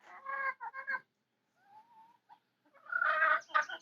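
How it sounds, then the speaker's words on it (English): Chickens near a coop cluck loudly in short bursts, pausing in between before a last noisy flurry of squawking clucks, close by with no talk. "Chickens are loud as heck, man."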